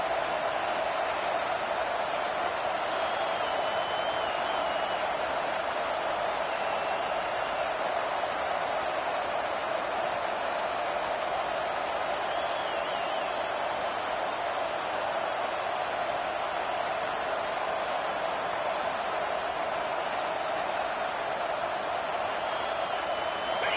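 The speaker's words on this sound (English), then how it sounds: "how nice is it to have the home crowd going absolutely bananas?" A home crowd at a football game roars steadily and loudly throughout, a dense, unbroken wash of cheering and noise with no breaks in intensity.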